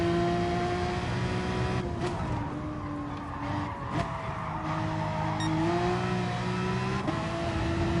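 A race car engine in a sim racing game at Brands Hatch GP revs hard and climbs through the gears, with sharp dips at each shift and light tyre squeal, loud and continuous with no talk.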